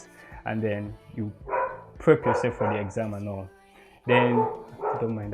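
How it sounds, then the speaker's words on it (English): A dog barks in the background, partly buried under a person's steady talking. "that's my dog"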